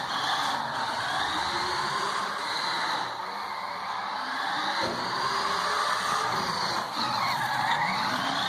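A small Particle Photon-controlled RC car slides and skids, its tires scrubbing in a steady, loud hiss with a whining motor layered over it, continuous and close throughout with only slight dips.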